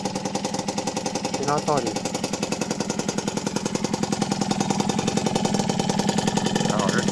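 A Motobécane 50 N moped engine runs with a rapid, steady buzzing putter close by, while someone speaks briefly over it.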